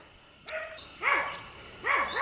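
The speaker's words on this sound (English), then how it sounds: "Crazy dog." A dog outside an abandoned former hotel in Penang, Malaysia, gives a few sharp, agitated barks and yelps at close range, spaced out over a couple of seconds against a steady background hiss.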